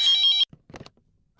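Phone ringtone with a bright, buzzing electronic tone, loud and close for under half a second before it cuts off, followed by a few soft knocks and shuffles.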